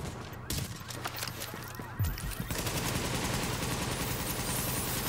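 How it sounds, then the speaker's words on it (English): Rapid automatic gunfire rattles continuously in an online shooter game, The Division, with dense bursts of shots and a few louder single cracks. "Who the fuck is shooting me?"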